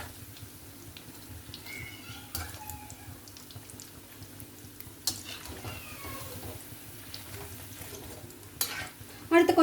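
Potato cutlets fry in a pan with a faint, steady sizzle, broken by a few soft clicks and scrapes as they are turned over. The sound is close but quiet, and there is no speech.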